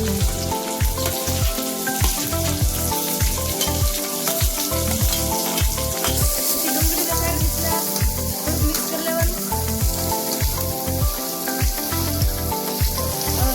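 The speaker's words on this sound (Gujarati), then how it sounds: "ડુંગળી ગુલાબી રંગની થાય ત્યાં લગી આપણે તેને સાતળીએ" Onions fry in oil in a kadai with ginger-garlic paste, a loud, steady, dense sizzle that continues unbroken throughout, close to the pan with no talking.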